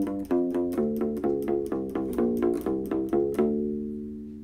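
U-Bass with flatwound strings picked in a short phrase of about ten round, even notes, each plucked cleanly, with the final note left to ring out and fade.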